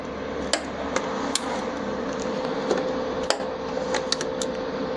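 A Crown Vic shifting cable is being welded onto a Ford F100 steering column. A steady crackling buzz plays close by, with sharp ticks and pops scattered through it.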